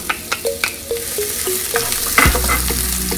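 Onions hit olive oil in a skillet, setting off a loud, steady sizzle after a few clinks of a spoon against the pan. A low rumble and crackle carry on beneath.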